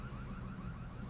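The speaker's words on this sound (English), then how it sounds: "I probably should have been somewhere where there isn't a car alarm sounding." A car alarm sounds in the Jimmy Neutron: Attack of the Twonkies video game, a faint continuous warbling tone heard alone for about a second.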